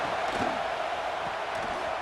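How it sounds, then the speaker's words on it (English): A raucous stadium crowd roars continuously in College Football 26 on PS5, a dense, loud wash of cheering and shouting with a faint announcer-like voice mixed underneath. "they try to quiet this raucous, crazy crowd"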